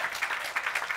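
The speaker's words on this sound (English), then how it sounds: "Give me a round of applause." Audience clapping at a youth gathering with the UNFPA Executive Director in Uganda, a brief, fairly faint patter of hands.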